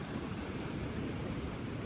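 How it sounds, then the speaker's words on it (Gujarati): A steady rushing roar of fast-moving water, broad and constant, close by, with no voices. "અહીંયા કેટલું ફાસ્ટ પાણી આવે છે"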